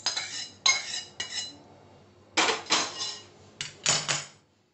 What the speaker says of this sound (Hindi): इन सबको अच्छी तरह से मिक्स करें